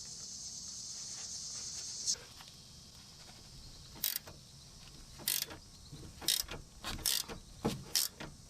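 A wrench ratchets and clicks while slowly cranking off a Toyota Highlander sway bar link nut, with a steady hiss early on, then sharp irregular metallic clicks and bursts of ratcheting, close and moderately quiet.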